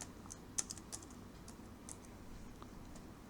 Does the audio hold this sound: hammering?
no